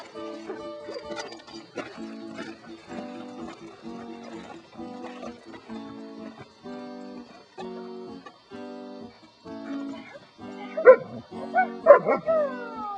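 Several dogs in Terlingua, Texas, bark in short repeated bursts, moderately close, with a few higher yips and whines near the end.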